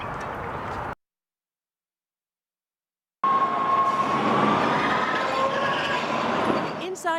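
A Metro rail train rumbles loud and close, its steady roar cut by a two-second gap of silence before it resumes with a sustained metallic whine, voices faintly mixed in.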